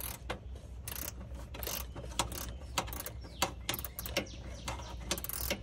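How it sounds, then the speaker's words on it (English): A ratcheting screwdriver with a small bit turns on a ductless mini split's leaking micro channel coil, giving quick, uneven runs of clicks close up over a low mechanical hum. "we just put a normal little bit in here to get in there, and it is ratcheting"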